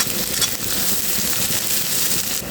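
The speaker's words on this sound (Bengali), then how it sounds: "এখানে আমি অনেকগুলো পেঁয়াজ তেলের ভিতরে কষিয়ে নিয়েছি এখানে দিয়ে দিচ্ছি দুই টুকরো তেজপাতা" Bay leaves dropped into a pan of onions frying in oil, giving a steady, close broadband sizzle that stays even and unbroken throughout with no voices.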